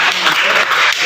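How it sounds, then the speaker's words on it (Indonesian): A classroom group applauds, a short dense burst of clapping at close range, steady and loud throughout with faint voices mixed in. "Beri tepuk tangan."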